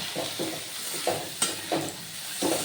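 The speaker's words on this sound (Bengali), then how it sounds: "তো চিংড়ি মাছটা নুন হলুদ দিয়ে আমি ভেজে তুলে নেবো" Prawns frying in a pan with salt and turmeric give a steady sizzle, broken by several soft stirring scrapes and clinks, heard up close with no talk.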